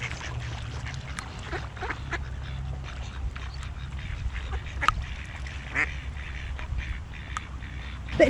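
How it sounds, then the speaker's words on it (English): Ducks quack in short, scattered bursts over a low steady hum, a few calls fairly close and others fainter. "Oh, there's a beautiful pair of ducks."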